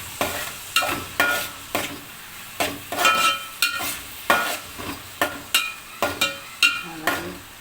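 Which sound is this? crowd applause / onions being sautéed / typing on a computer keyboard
onions being sautéed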